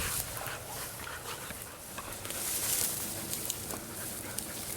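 A hunting dog pants after retrieving a bird on a bird hunt: steady, close breathing against a broad outdoor hiss, with no talk.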